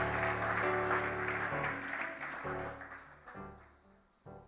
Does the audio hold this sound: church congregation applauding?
yes